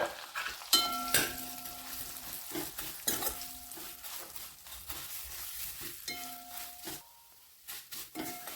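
Vermicelli is roasted in a pan with dry fruits, semolina and poppy seeds, giving a soft, close frying sizzle. Irregular metallic scrapes and clinks of a spoon against the pan come and go, with brief quiet gaps.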